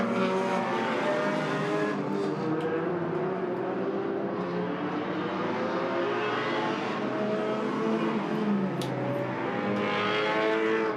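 Race cars lapping Agassiz Speedway in British Columbia during a Hornet Enduro Roval championship event, engines droning loudly and continuously as two cars run nose to tail, with occasional tire noise and no talk.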